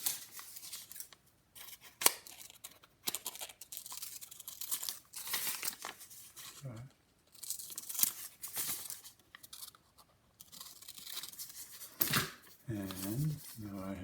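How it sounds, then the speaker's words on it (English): Scissors cutting folded paper fraction strips, irregular crisp snips mixed with paper crinkling and rustling, close and fairly quiet, with faint voice sounds at moments. "So now I have 4 equal sections, and I'm going to cut those out."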